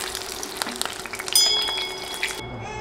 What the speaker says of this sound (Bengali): 2 মিনিটের মতো ভাজার পর দেখুন ডিমের গায়ে বাদামি দাগ পড়েছে।